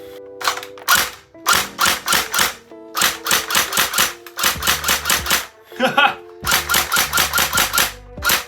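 Airsoft bullpup rifle with blowback, running on a LiPo battery, fires in rapid full-auto bursts of sharp mechanical clacks, with a short pause between each burst and a brief quieter stretch in the middle.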